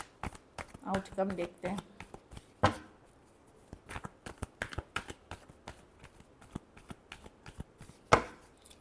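Tarot cards being shuffled by hand in a quick series of soft riffling slaps and flutters, with a louder burst near the start, while someone speaks over them.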